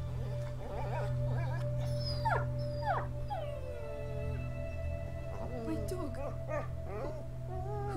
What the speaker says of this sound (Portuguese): Vixe, é o cachorro, mano.